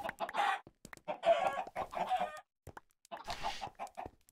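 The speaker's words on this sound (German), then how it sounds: "Hühner für alle!" Chickens clucking in the Minecraft modpack Agrarian Skies, a few bursts of clucks with short gaps between them, clear and close with no talk over them.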